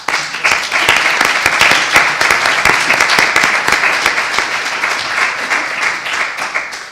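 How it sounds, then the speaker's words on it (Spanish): Loud, sustained audience applause at a journal presentation, a dense wash of many hands clapping close by that starts abruptly and tapers off at the end. "Muy bien, se merece un aplauso,"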